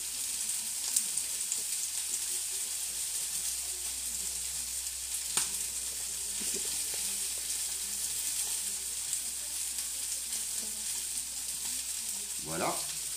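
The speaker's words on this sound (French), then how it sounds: "on attend que les pois finissent de cuire" Peas sizzling in a very hot pan for a balsamic chicken salad, a steady bright hiss running throughout with a few soft scrapes and clinks, ending in a brief stirring clatter.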